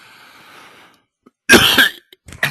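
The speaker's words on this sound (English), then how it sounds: "It coughed directly into the microphone." A person coughs directly into a microphone, one loud close burst of harsh coughs followed by a shorter second cough after near silence.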